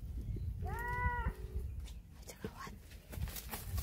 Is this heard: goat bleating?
yes